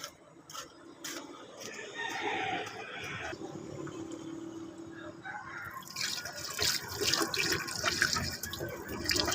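Water poured into the radiator of an overheating Toyota Vios: a steady splashing, gurgling stream that changes pitch as it fills, close by, with a rooster crowing faintly in the background.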